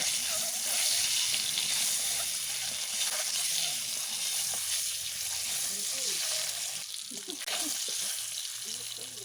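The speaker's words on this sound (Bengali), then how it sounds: "আমি তেলের মধ্যে ডিম ছেড়ে দিলাম।" Egg frying in oil in a pan, a bright continuous sizzle close by with occasional stirring scrapes and faint background voices.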